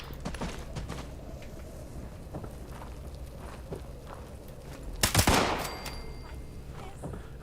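Gunfire in a video game set at a pioneer camp, sounding as a low continuous crackle of shots through the clip, then one sharp, louder burst near the end, with no voices.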